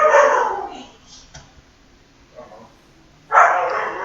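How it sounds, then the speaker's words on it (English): A pet puppy barks and yips loudly nearby in two bursts with a quiet pause between, indoors. "Sorry about that. I have a puppy."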